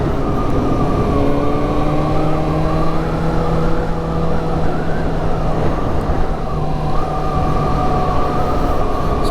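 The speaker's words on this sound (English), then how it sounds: "this is how it sounds when I'm talking and the visor's open and there's wind blowing" Loud, steady wind roar buffets a motorcycle helmet mic with the visor open while cruising through a neighborhood, with a droning engine hum running under it for the whole stretch.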